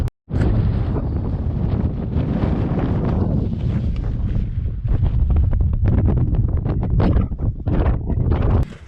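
Strong southerly wind sweeps along a coastal clifftop and buffets the microphone in a loud, continuous roar that gusts and surges throughout.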